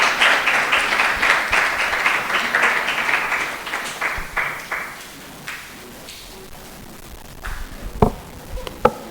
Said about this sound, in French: J'invite donc, sous vos applaudissements, Monsieur Laurent Kalembo Tshindela